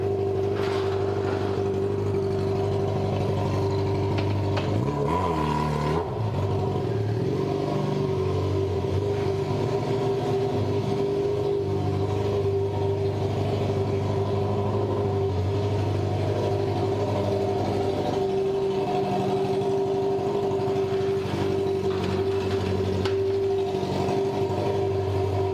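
A Yamaha XJ6 motorcycle with its muffler tip removed idles loudly through a straight exhaust with a raw, throaty rumble, running continuously up close, with a brief throttle blip early on.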